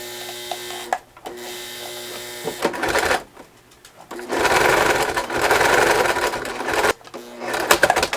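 A sewing machine stitching through thick cushion corners, with loud close bursts of rapid mechanical whirring separated by short pauses and an uneven, labouring pace.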